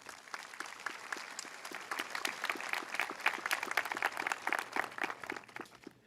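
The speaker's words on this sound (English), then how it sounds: "A round of applause for them, please." Applause at a high school graduation ceremony for the Class of 2023 as the board of education members are honored, a steady crowd clapping that builds, holds strong and tapers near the end, with no talking over it.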